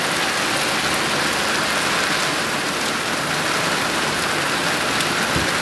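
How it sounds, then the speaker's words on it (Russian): Heavy thunderstorm rain pours steadily, a dense, constant hiss of water hitting surfaces with no pauses, close and loud throughout. "Ничего не видно, стеной и дождь идет."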